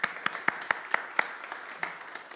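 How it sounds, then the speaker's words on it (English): Audience applause for community champion Joseph at a church weekend session: scattered, fairly sparse claps that peak early and thin out over a couple of seconds, moderately close. "Let's give Joseph a round of applause."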